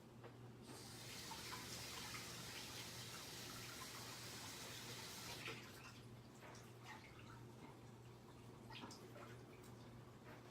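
Tap water runs steadily into a bowl as homemade butter is rinsed, a broad continuous splashing rush that cuts out partway through, leaving faint drips and light handling noises.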